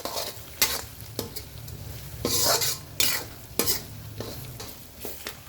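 Turmeric and coriander powder stirred into a mango rice mixture in a hot pan: repeated loud scraping strokes of a spoon over a low sizzle, close, at an irregular rhythm.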